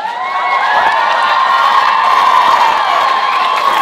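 A comedy-show audience erupting in loud cheering and whoops with scattered clapping, a dense, bright roar of voices sustained throughout.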